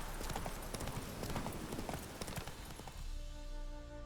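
Roach, a horse in The Witcher 3, clip-clops along at a steady walking rhythm, hooves close and continuous over game ambience before the steps die away and a held tone remains.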